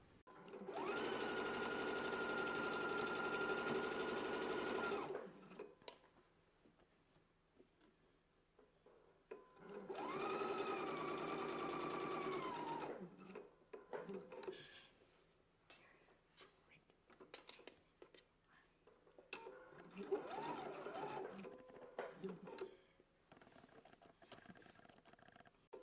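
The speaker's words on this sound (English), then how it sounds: "We're going to stitch all the way up close to the raw edge or your folded edge or your folded pressed edge" A home sewing machine stitching a folded, pressed fabric edge for a top, running in a loud steady buzz for about five seconds, pausing, then a second shorter run, followed by quieter handling noises and brief motor bursts.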